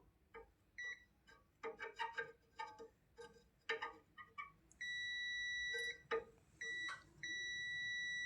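A multimeter set to its continuity buzzer range beeps as the probes test an AC compressor whose winding has burned and shorted to the body. Scattered clicks and handling taps come first, then several long steady beeps with brief gaps.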